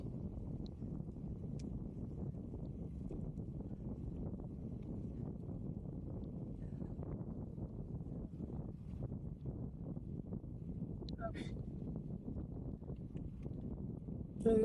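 Steady wind buffets the microphone on a desert cycle track at Al Wathba, producing a constant low rumbling roar with no pauses.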